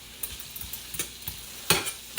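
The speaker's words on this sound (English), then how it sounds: "Stir fry." Zucchini stir-frying in olive oil, a low hiss of sizzle punctuated by a handful of quick scraping stirs and clanks of the spatula, one louder toss near the end, no voices.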